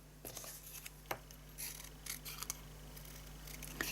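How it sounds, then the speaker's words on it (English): Scissors snip around a cut-out paper centre piece for a small stamped cookie box, giving faint, sparse clicks and crisp cuts over a quiet room hum. "So let's get the scissors and cut round that."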